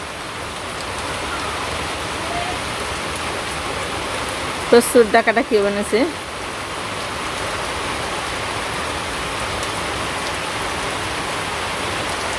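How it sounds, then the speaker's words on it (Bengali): Steady rain falls outside a village home, a continuous soft hiss of drops on surfaces heard nearby. A person speaks briefly partway through. "এই যে দেখেন বাইরে বৃষ্টি নামছে।"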